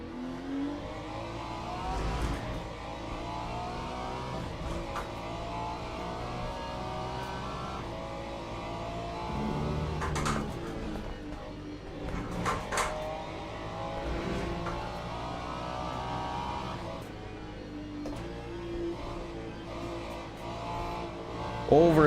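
A race car's engine in Le Mans Ultimate (a Ferrari) revs and drops through gear changes, steady and loud with brief sharp downshift bursts and tire squeal in corners, a voice speaking faintly over it.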